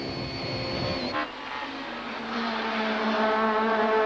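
Super Touring race cars, among them a BMW and a Toyota Camry, roar along a straight at Kyalami in 1995, with loud engines droning and shifting pitch close by and no talk over them.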